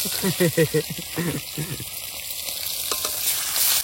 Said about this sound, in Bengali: একেবারে টাটকা মাছ, গাবড়া সাইজটা, একেবারে ধরেই ডাইরেক্ট ভাজা